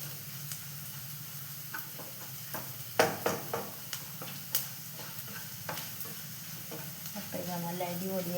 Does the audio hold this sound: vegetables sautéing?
yes